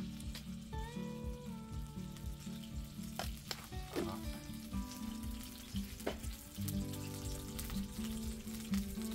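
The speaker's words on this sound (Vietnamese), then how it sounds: "mình sẽ thắng cái đường này để làm nước màu nha mọi người" Two spoonfuls of sugar sizzle and fry in cooking oil in a pan as they caramelize, a continuous soft crackle with scattered pops and occasional stirring clatter, fairly quiet and with no talking.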